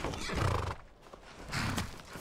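A horse neighs in the video game Skyrim, a loud whinny followed by a second, fainter call, with hoofbeats mixed in.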